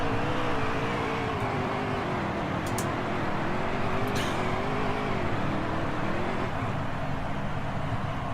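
A NASCAR Heat 3 stock race car engine drones steadily at high revs, a continuous close roar with slight pitch wavering and no talk.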